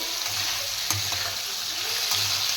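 Fasha fish curry with potato and tomato sizzling and frying steadily in a pan, a soft continuous hiss with faint stirring knocks.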